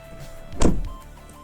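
A Golf GTI TCR door thumps shut, a single close, solid closing impact with a brief rattling decay, set against a quiet steady background hum.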